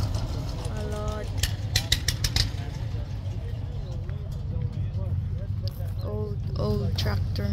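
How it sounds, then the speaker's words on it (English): A 56-year-old tractor engine idles at an antiques festival at a farm park in Denton, North Carolina, a low steady rumble running underneath while people chat nearby and intermittent clanks and taps sound out. "Old tractor."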